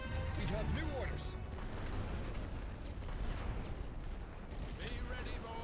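Artillery fire in the game The Great War: Western Front, a dense continuous rumble of distant booms and crackling blasts layered into a heavy battlefield barrage with faint whistling shells.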